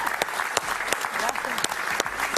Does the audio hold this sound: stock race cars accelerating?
no